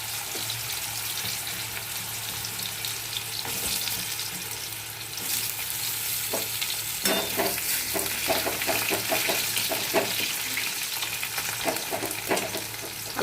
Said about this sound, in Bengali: এই কালো জিরে ফোড়ন দিলাম, এবার আলুটা দিলাম।